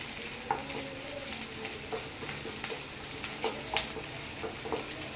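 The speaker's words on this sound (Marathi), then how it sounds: "सो आता हे बरे फ्राय करून घेता" Mushrooms fry in a pan for a Goan mushroom xacuti, a soft continuous sizzle dotted with small pops and spatters, close and fairly quiet, no talking.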